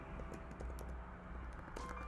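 Keyboard typing of a username into a login field, a steady run of soft key clicks over a constant background hum.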